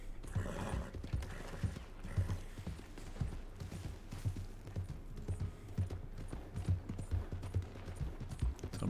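Horse hooves thud in a quick, steady galloping rhythm, up close, with faint background effects and no talking, in the video game Red Dead Redemption 2.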